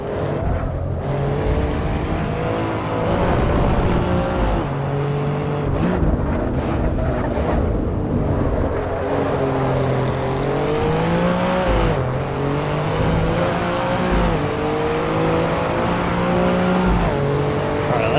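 Race car engine in the Assetto Corsa video game from the chase camera, droning loud and steady throughout with rising and falling revs through gear changes and occasional tire squeal.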